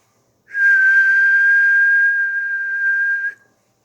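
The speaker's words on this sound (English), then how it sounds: "but the ref blows the whistle." A referee blows a single long, loud, steady whistle blast lasting about three seconds to end a soccer match, sounding close and alone.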